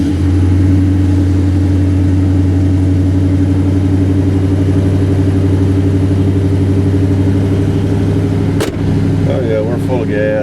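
A GMC Jimmy engine running at a high idle, a loud, steady mechanical drone with a strong hum held throughout, with a brief clunk near the end.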